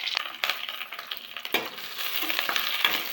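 Chopped onions sizzling and frying in hot oil with fenugreek seeds and curry leaves, stirred steadily with a spoon scraping the pan, for a Thanjavur-style fish curry; a close, continuous crackle with no voices.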